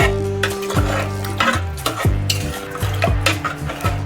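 A spoon stirs dhaba-style chole masala in a pan after water is added, giving repeated close metallic scrapes and clinks at a steady rhythm over a soft bubbling sizzle, with no talk.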